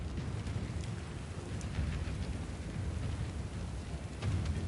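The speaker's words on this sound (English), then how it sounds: "Got some nice rain vibes going too down here tonight" Rain falls steadily outside at night, a faint, even hiss with soft patter and no talking.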